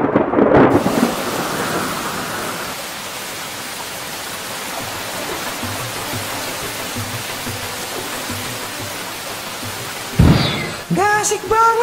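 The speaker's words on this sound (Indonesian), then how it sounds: "malah hujan" Heavy rain pours down in a steady, loud hiss with rumbles of thunder, and voices speak briefly at the start and near the end.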